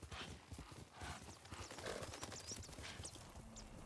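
Horse hooves clip-clop in the Ghost of Tsushima video game, a busy run of close, rhythmic hoof strikes with a brief whinny among them, and no talking over the top.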